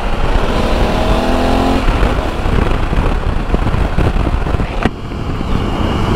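A new Honda Africa Twin motorcycle rides down a straight, busy street, its engine a loud, steady drone with wind rush throughout and a brief shift or gear change near the end.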